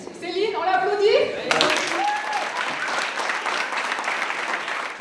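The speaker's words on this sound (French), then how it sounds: "Céline, on l'applaudit?" A small group at a community school meeting bursts into applause for a participant, with brisk, steady clapping right after a brief spoken prompt, continuing to the end.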